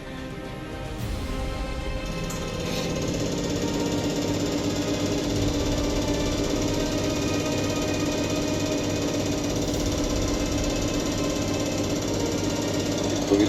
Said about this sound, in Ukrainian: Запускаємо тест форсунки наново.